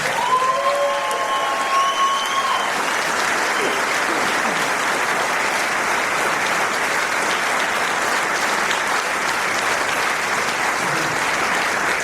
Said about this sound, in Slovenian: In še aplavz za naše soliste.